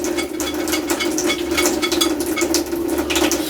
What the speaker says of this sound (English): Giving this a whisk.